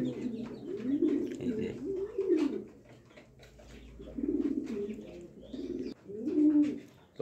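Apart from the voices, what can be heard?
pigeons cooing in a loft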